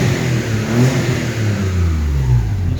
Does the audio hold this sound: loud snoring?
no